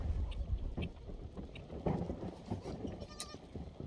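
Young goat kids bleat while being bottle-fed warm milk. Several short bleats mix with shuffling, jostling and handling noises close by, throughout the scene.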